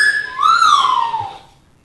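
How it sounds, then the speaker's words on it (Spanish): Someone whistles a single sliding tone that rises and then falls away, close and clear, with no talk over it. "Es que el silbido no me gusta."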